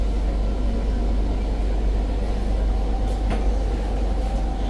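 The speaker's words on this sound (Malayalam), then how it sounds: "മെട്രോ ട്രെയിനിലാണ്." Inside a moving metro train, a steady loud rumble of wheels and motor drones throughout, with a brief sharper rattle midway.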